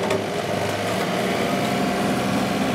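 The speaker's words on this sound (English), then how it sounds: "I can mulch up those little branches right here" A tractor running a loader-mounted rotary cutter mulches small tree branches, a steady mid-level engine drone with a sharp snap near the start, continuous and fairly close with no talking.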